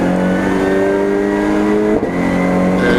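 A racing car at Donington Park lapping the circuit, its engine loud and close with a steady high drone that shifts pitch as it passes mid-way.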